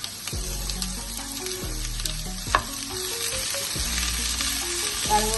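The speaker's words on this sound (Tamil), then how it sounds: "ஓரளவு எண்ணெயிலேயே வதக்கணும்" Vegetables, including carrot and chilli, sautéing in a little oil for vegetable biryani, giving a steady sizzle with a few clinks and scrapes of a spoon, close and without talk.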